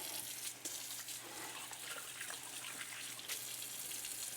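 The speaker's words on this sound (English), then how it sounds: "I'm going to wash my hands here real quick because this is a little oily" Water runs steadily from a kitchen tap as hands are washed after handling oily charcuterie ingredients, a continuous close gush with faint splashing and no talking.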